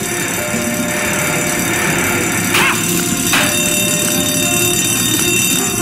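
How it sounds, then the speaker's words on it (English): Alarms ring continuously in the Family Guy: Back to the Multiverse video game, a loud, steady, shrill electronic tone filling the scene, with two brief louder bursts partway through. "Quiet the alarms"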